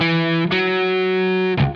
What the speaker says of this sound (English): then in the minor scale, you'd be playing a minor 7th up to the octave